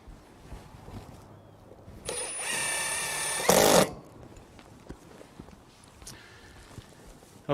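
A power drill drives 1.5-inch number 12 screws into a roof while a Fallban fall protection system is installed. One loud whirring burst lasts about two seconds, ending in a brief harsher surge. Quiet outdoor background comes before and after.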